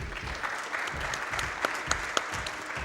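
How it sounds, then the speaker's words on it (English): Crowd applause at a speedrunning marathon event, continuous and fairly even with a few sharper claps standing out near the end. "Your knitting deserves a big round of applause"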